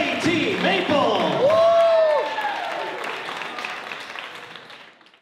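Wedding reception guests clapping and whooping, a lively burst with cheering voices and shouts that gradually fade out.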